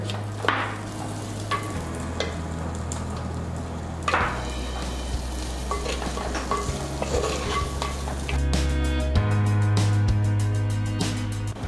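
Onion and three green chillies sauté in a pan for a village-style dried fish curry, with a steady sizzle and intermittent spoon scrapes and clinks against the pan.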